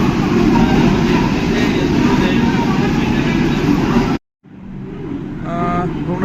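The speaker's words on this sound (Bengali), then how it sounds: "ভুবনেশ্বর থেকে ট্রেন আমাদের ছেড়ে দিল" A passenger train hauled by a WAP-7 electric locomotive pulls out of Bhubaneswar in heavy rain, its loud, steady rumble filling the space before a sudden brief cut and a quieter, building run.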